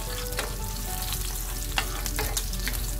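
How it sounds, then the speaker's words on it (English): Garlic cloves frying gently in oil in a pan for a Chettinad-style prawn masala, with a constant close sizzle and a few soft stirring scrapes over a low background hum; no speech. "gently fry the garlic in the oil without browning it too much or burning it"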